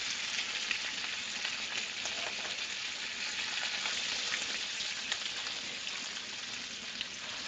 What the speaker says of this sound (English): Some of it is going to kind of carbonate a little bit while the steak is searing.